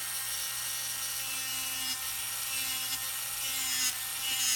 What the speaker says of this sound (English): I'm gonna use my drill and file at the top